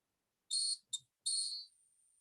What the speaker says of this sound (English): I'm getting just a little bit of buzzing.